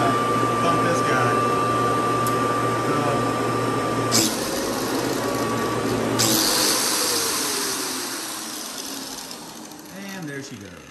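An 11 amp, 120 volt angle grinder running off a generator whines steadily at close range, the pitch shifting and the motor spinning down toward the end.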